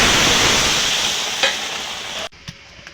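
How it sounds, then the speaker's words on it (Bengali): Spice masala for egg curry frying loudly in a pan as water is poured in, a dense close sizzle that cuts off abruptly to near quiet, leaving a few faint clinks and bubbles. "মশলাটা কষিয়ে নিয়েছে, এবার জল দিয়ে দেবো।"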